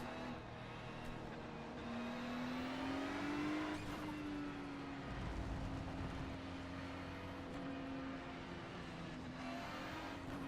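GT3 race car engines at Hockenheim in a racing video game rise and fall through the gears, with a steady rough drone and whining revs, one car accelerating near while others roar around it, fairly quiet overall.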